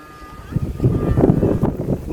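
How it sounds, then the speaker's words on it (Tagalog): Gusty wind buffets the microphone with low rumbling bursts that rise and fall, while a faint steady tone lingers in the background. "Lakas ng hangin, Peng!"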